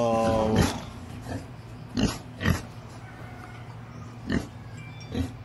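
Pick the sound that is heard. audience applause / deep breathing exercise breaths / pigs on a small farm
pigs on a small farm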